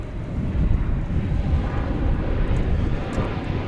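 An American Airlines Boeing 737 MAX 8 arriving from Austin rumbles steadily at moderate distance, a low engine drone mixed with wind buffeting the microphone.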